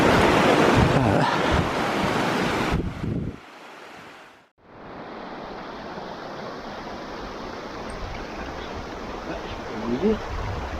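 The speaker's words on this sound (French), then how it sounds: "je suis le ruisseau, écoute" A mountain stream high in the Pyrenees near the Camporells lakes rushes steadily over rocks, a continuous close broadband wash that dips briefly to near silence midway before resuming just as full.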